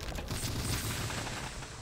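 Fireworks in the video game Bioshock Infinite crackle and pop as a dense, continuous burst of bangs filling the whole moment.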